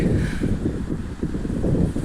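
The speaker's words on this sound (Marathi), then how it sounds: "आवाज येणार नाही कारण वारा आहे खूप इकडे" Strong outdoor wind buffets the microphone in a steady, loud low rumble with gusty fluctuations near the coast.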